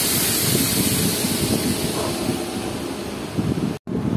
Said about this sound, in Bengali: গোসাইগ্রাম স্টেশন ছেড়ে দিল আমাদের ট্রেন